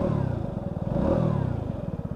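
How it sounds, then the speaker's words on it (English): A Lexmoto Riot 125cc motorcycle idles just after starting, its small engine putting out a steady, even low purr with a fast regular pulse, close and fairly quiet with no talk. "Got a lovely little purr to that engine."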